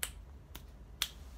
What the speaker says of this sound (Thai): เหมือนดีดนิ้วนะคะ